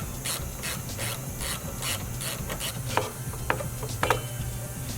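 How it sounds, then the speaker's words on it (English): A hand ratchet clicks in quick repeated bursts while unbolting a brake caliper to check the pads, close and crisp with a few sharper metallic taps near the end. "we're going to take the caliper off to check our brake pads"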